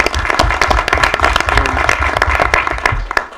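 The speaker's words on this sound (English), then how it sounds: "Just a special applause to that." Applause from a school committee meeting audience honoring a championship-winning girls' cheerleading team; a short burst of uneven hand claps in a room, moderately loud and close, with no talk over it.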